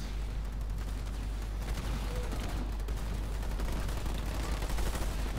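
Steady, dense gunfire in the Halo Wars 2 real-time strategy game, a continuous low rumble of shots and impacts at moderate level with no clear breaks and no talk.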